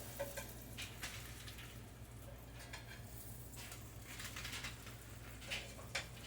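English muffins cook in a skillet with a soft, steady sizzle, while a spatula occasionally scrapes and taps against the pan in a few brief clicks.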